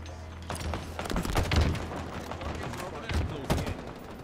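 Rapid gunfire rattles in Halo Infinite, with pistol shots from several players overlapping in dense, loud bursts and thuds across the whole stretch.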